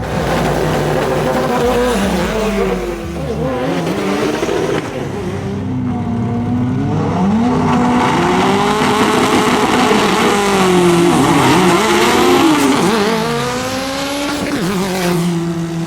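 An 1100HP Honda-powered widebody MR2 race car running 48 PSI of boost toward 10K RPM launches hard. Its engine howls loud and close, pitch climbing and dropping through repeated rev sweeps for the whole stretch.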